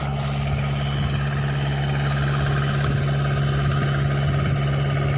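An engine-driven water pump runs steadily while filling a water tank, giving a loud, constant mid-pitched engine drone with a strong hum and no pauses.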